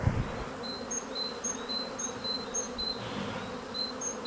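Honeybees buzz around a hive, a steady close drone with repeated short high whines of individual bees flying past the microphone.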